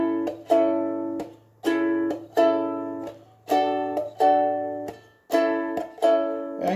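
Ukulele strumming the chords of a song, bright rhythmic strums in short bursts with pauses between, close and clear with no voice.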